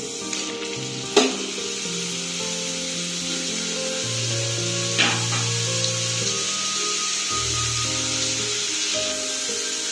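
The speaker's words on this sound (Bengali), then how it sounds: "এবার আমি এর মধ্যে আলুগুলো দিয়ে দিচ্ছি" Potatoes fry in oil in a wok over a gas burner with a strong, steady sizzle and a few sharp clacks from a utensil, while tonal music plays underneath.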